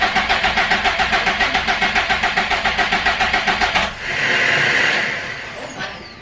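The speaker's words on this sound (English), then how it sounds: "That's like the air pump." A 500 whp car at first start-up cranks with a steady rhythmic chugging for about four seconds, then catches into a loud whooshing, whining air-pump rush that gradually fades, close and with no talk over it.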